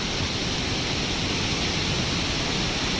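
Kothali (Pawai) waterfall in Surguja pours down rocky cliffs in a steady, loud, broadband roar that never lets up, heard close to the falling water with no voices.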